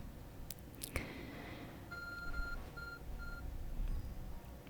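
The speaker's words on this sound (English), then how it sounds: "It's beeping." Short electronic beeps in Pokémon Legends: Arceus, three or four evenly spaced tones after a few soft clicks, quiet and alone.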